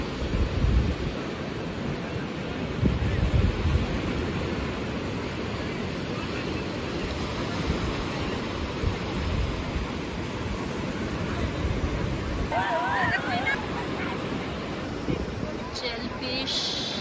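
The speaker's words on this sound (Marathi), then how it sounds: "हा आहे आरेचा समुद्र किनारा." Sea waves wash onto Aare beach on the Konkan coast, a steady, fairly soft surf hiss mixed with wind buffeting on the microphone, with a brief voice late on.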